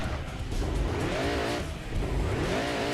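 A race car's engine in Gran Turismo 2 accelerates during the Grand Valley 300km race, a loud, continuous whine that climbs in pitch through the gears with the road noise steady underneath.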